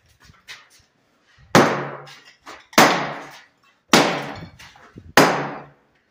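Hard, loud scraping strikes as a scraper chisels off a layer, four sharp impacts each trailing into a short rasp, spaced a little over a second apart with faint scuffs between them.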